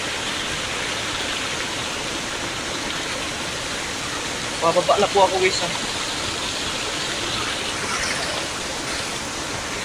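A mountain waterfall on a river rushes as a constant, moderately loud roar, while someone briefly speaks over it midway.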